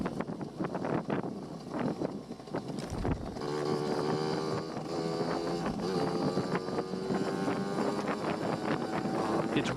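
A Yamaha QT50 moped with its stock carburetor runs at speed while being ridden, a steady buzzing two-stroke drone that climbs in pitch, mixed with heavy wind rush over the microphone.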